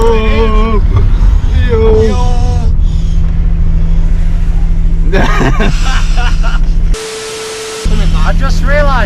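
A BMW E30 on its first drive after a rebuild, the engine droning steadily at low revs with a gear whine rising and falling, loud and close, while people talk over it.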